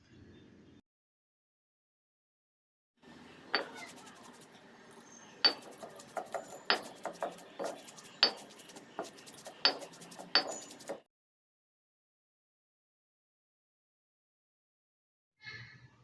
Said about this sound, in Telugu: ముందుగా మనం నానబెట్టుకున్న గసాలను వేసుకొని నూరుకోవాలి